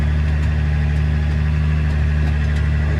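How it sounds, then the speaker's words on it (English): A loud excavator engine with its muffler ripped off runs steadily up close, a deep, harsh, unbroken drone with no talking. "The muffler ripped off the excavator, so she's a little bit loud again."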